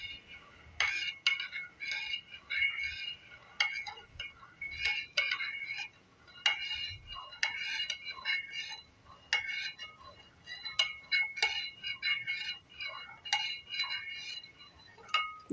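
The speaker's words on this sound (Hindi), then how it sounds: "और अब मैं इसको अच्छी तरह से स्टर करूंगी।" A spoon stirs a gelatin drink in a glass, making quick repeated light clinks and taps against the glass in irregular bursts, close and fairly quiet.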